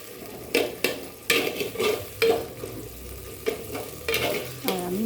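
Tomato puree goes into a sizzling spice mix and is stirred, giving a series of scraping spoon strokes against the pan at a steady rhythm over a soft frying hiss, close and moderately quiet.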